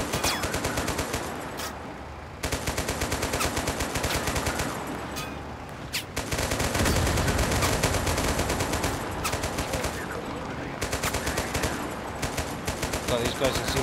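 Sustained automatic gunfire in the Total Conflict Resistance military shooter, dense bursts of machine gun rounds running nearly continuously with a brief lull, loud and close, with voices speaking over it.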